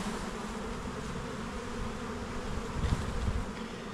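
A dense, steady hum of many honeybees buzzing close by during a nucleus colony hive install, a continuous droning swarm with no voices.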